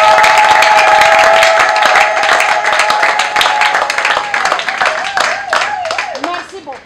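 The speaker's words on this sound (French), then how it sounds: "On applaudit Kapata très fort" A live audience at a French-language political youth event claps loudly for a speaker named Kapata. Many hands beat in a dense, rhythmic round that thins and scatters toward the end, with voices and cheers mixed in.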